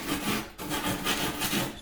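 Foam being shaved with a small cheese-grater-like rasp, heard up close as quick, repeated rough scraping strokes with a short pause early on.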